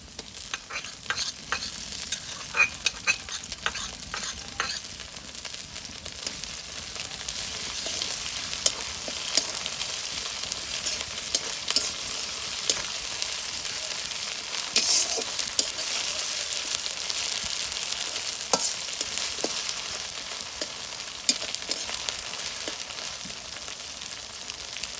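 Goat-meat curry masala with ginger paste is sautéed in a pan. It gives a continuous close sizzle, broken by repeated scraping and clattering stirs of a spoon against the pan, with no talking.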